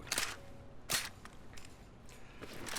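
A semi-automatic rifle with an Oil Spill skin in the Rust video game fires a few sharp, separated shots, followed by faint mechanical reload clicks. The sounds are quiet and come with no speech.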